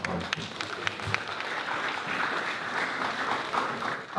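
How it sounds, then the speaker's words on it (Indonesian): An audience claps at an aviation security and safety campaign event, a few separate claps at first swelling into continuous moderate applause. "Oke, tepuk tangan dong."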